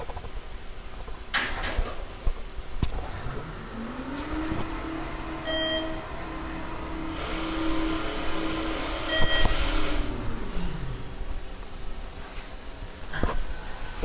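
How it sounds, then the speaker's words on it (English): Hotel elevator motor running while the car rises to the third floor, a steady mechanical hum with a rising then falling whine and scattered clicks and thumps, close and fairly loud, no talking. "Listen to the motor."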